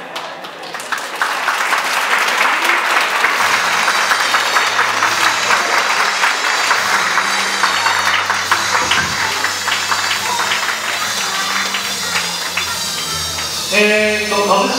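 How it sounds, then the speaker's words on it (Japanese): Loud applause at a game exhibition match event swells up after a second and continues at a steady level, with soft background music underneath and a voice starting at the end. "それでは皆様大きな拍手をお迎えください。"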